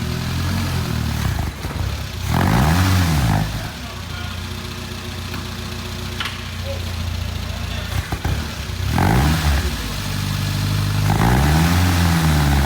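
A vehicle with no brakes has its engine started and is driven backwards, idling close by and then revving in rising and falling surges, with a few louder pushes of the throttle.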